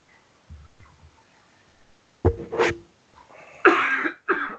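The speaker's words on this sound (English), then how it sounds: "sometimes you gotta cough" A person coughing close to a microphone during a Skype voice call: faint throat noises first, then a sharp cough pair and two more rough, breathy coughs, with no talk.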